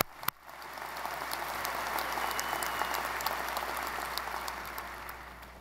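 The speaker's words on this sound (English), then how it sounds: "let's give a big round of applause to these graduates." Sustained audience applause from a large crowd at a Georgia Tech spring commencement bachelor ceremony, a steady dense wash of clapping that swells slightly and holds evenly throughout, with no talking.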